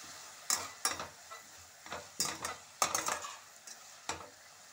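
Onions fry in a pan with salt, a steady sizzle broken by a series of sharp scraping stirs of a spoon against the pan, about ten distinct strokes, close and fairly quiet.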